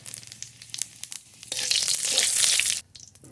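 Cumin seeds and radhuni hit hot mustard oil in a kadai for tempering, bursting into a loud, hissing sizzle that lasts just over a second and then cuts off, after some quieter ticking sounds.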